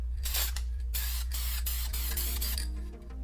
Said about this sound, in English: you're just going to spray a good thin coat all over your decals here